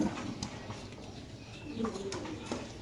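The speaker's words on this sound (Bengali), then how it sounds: "একজোড়া ব্ল্যাক রেসার কবুতর মাশাআল্লাহ" A pair of black racer pigeons from a Bangladeshi loft coo softly and intermittently at close range, a few low murmuring calls over a faint, steady background.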